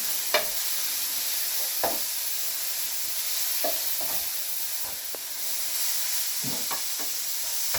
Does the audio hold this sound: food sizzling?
yes